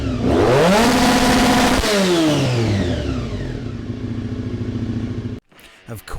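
Aprilia Tuono 660 motorcycle engine revving hard up to the red line, a loud close rising howl that peaks, drops back, then settles into a lower idle rumble before cutting off abruptly.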